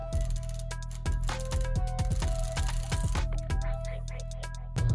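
A ratchet clicks in quick bursts while removing the axle nut on a Nissan 4x4 hub, close and crisp over a steady low hum, with short pauses between strokes.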